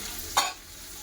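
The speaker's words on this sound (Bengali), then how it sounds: "আদা রসুন বাটা দিয়ে দিলাম সব ভালো করে একসাথে কষে নেবো" Onion, tomato and ginger-garlic paste fry together in a pan as a soft background sizzle is cut by one quick, sharp stirring scrape.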